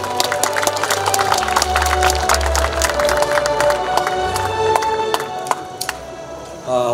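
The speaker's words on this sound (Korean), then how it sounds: "역시 큰 박수로 맞이해 주시기 바랍니다" Crowd applause at the opening ceremony of Hakbong History and Culture Park in Andong, with steady dense clapping and some cheering held loud throughout, ending abruptly.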